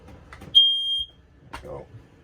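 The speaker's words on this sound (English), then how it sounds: "Smoke alarm." A smoke alarm in a 2019 R.Pod 180 travel trailer gives one loud, shrill test beep lasting about half a second. Quieter clicks and handling noise come before and after it, and a brief voice is heard.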